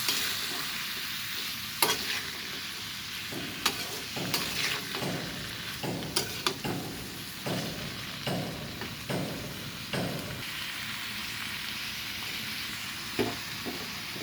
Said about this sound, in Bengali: এখন করলাগুলো সুন্দর করে ভেজে নেব